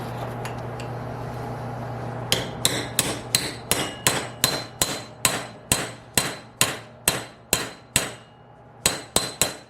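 Steel hammer taps on a Mercedes W109 air suspension compressor being dismantled to free corrosion: about seventeen sharp, close metallic knocks in a steady rhythm with a short pause, over a constant low hum.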